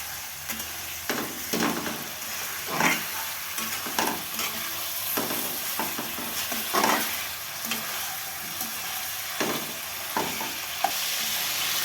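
Chicken meat frying in a pan for chicken rice, a steady sizzle broken by repeated scraping and clattering stirs.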